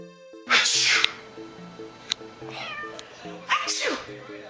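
A house cat gives short meows and odd vocal noises in response to a person's repeated loud sneezes, with several sharp sneeze bursts and some background talk and music-like tones throughout.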